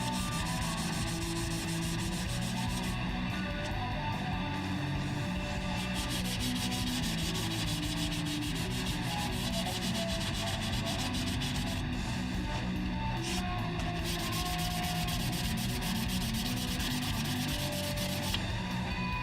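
Hand sanding a W2 steel blade with 2000 grit sandpaper makes a continuous close scratching rasp in quick back-and-forth strokes, steady and unbroken throughout.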